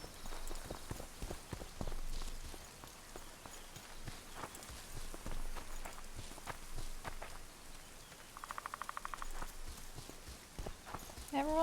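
Geralt's horse Roach trots in The Witcher 2, her hooves clip-clopping in a steady, fairly close rhythm while a voice talks over them.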